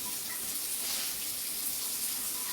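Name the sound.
tap water running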